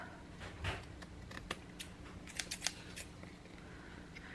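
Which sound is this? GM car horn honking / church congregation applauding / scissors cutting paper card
scissors cutting paper card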